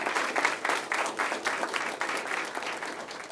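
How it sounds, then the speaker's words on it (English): Steady audience applause at a school board of trustees meeting, honoring students and graduating seniors; dense, continuous clapping from a roomful of people lasting a few seconds. "Let's give both of our students and graduating seniors a big round of applause"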